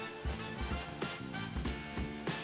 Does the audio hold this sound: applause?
no